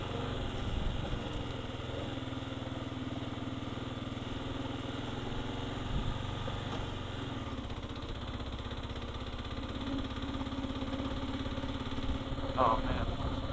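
A Kawasaki KLR 650 motorcycle idles steadily at a wilderness campsite in Colorado, a continuous low engine rumble that stays even and fairly close throughout.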